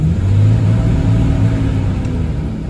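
Engine of a 1989 Jeep Wagoneer XJ held at a raised idle, a steady close rumble with a slight swell early on that eases a little toward the end.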